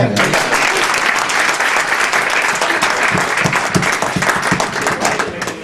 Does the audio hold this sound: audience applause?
yes